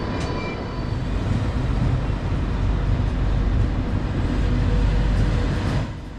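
A Ouigo TGV Euroduplex high-speed train departs a station in Spain, a loud, close, continuous rumble of rolling stock and traction noise that holds steady throughout before easing slightly at the end.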